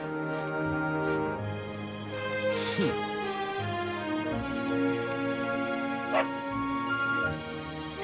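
A dog in the Dragon Quest XI video game gives a few short yips and whimpering barks over steady background game music.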